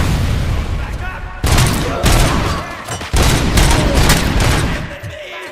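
Dense bursts of gunfire in the RoboCop: Rogue City video game, loud and near, firing in rapid volleys with brief lulls while a voice shouts over the shooting.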